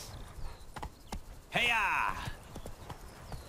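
A horse in the video game The Witcher 3: Blood and Wine whinnies loudly over steady trotting hoofbeats, with a person shouting briefly and background talk throughout.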